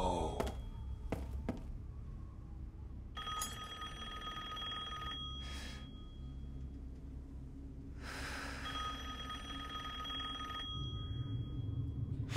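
An old telephone rings in Resident Evil Village, with two spaced bursts of bright trilling bells over a low ambient rumble and a few soft thuds and breaths.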